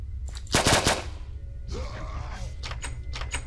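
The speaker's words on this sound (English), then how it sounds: "Where's that machine gun?" Bursts of machine gun fire in a zombie survival video game, a loud rapid cluster near the start followed by quieter scattered shots and clatter.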